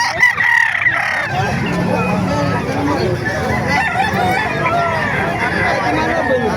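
Roosters crow repeatedly at a chicken market in Calumpit, Bulacan, amid clucking fowl and a busy crowd, with people talking and haggling throughout alongside the overlapping near and farther calls.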